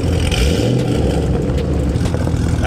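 A tuned Chevrolet Camaro ZL1 engine roars loud and close in a steady, throaty rev with no letup, rough mechanical texture running underneath.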